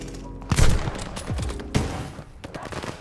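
Rapid video game gunfire crackles in dense overlapping bursts with sharp, punchy reports, loud and close throughout, with no talking.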